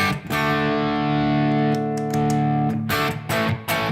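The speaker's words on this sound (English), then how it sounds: "I always like the sound of an overdrive pedal hitting the front end of an amp just a little bit" Electric guitar driven through an overdrive pedal into the front end of an amp with light delay, sustained chords and notes ringing loud and continuous, a few sharper strums near the end.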